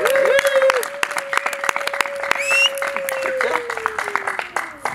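A wedding audience claps in a dense, sustained burst of applause, with a steady high tonal whistle running beneath the clapping.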